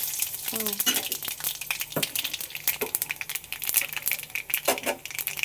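Cumin and a dried red chili crackle and fry in hot oil, a steady close sizzle with scattered sharp pops and rustling stirs, while a voice talks faintly in the background.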